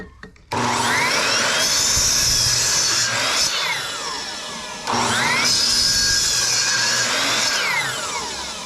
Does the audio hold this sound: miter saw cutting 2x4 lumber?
yes